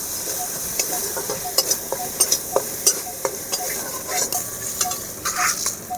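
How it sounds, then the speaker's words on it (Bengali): Turmeric, cumin powder and chili powder fry in a pan for dal puri filling, a light ongoing sizzle punctuated by repeated sharp spatula taps and scrapes against the metal, close and unaccompanied by talk. "জিরে গুঁড়ো, ঝাল লঙ্কার গুঁড়ো, মশলা আমি ভালো করে ভেজে নেব।"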